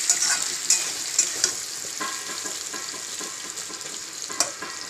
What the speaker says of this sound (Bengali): খুব সুন্দর করে নেড়ে নেড়ে কিন্তু ভেজে নিতে হবে।